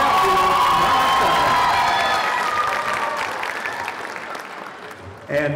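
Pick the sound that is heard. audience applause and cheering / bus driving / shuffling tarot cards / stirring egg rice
audience applause and cheering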